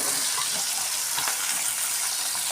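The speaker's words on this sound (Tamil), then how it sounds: "நறுக்கின வெங்காயத்தை இதில் போட்டு நல்லா வதக்கணும்." Chopped onions frying in oil in a pan for an egg curry, giving a steady, fairly loud hiss and sizzle throughout with faint stirring and no talk.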